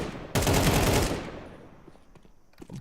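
A rifle burst in a Counter-Strike professional match, a loud, sharp volley of rapid shots lasting under a second, fading into quieter game noise and faint clicks.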